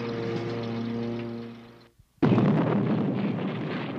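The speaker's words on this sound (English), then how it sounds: "When an atomic bomb explodes," An atomic bomb explosion: a sustained tonal hum drops to brief silence, then a sudden loud, broadband blast roars on and rumbles.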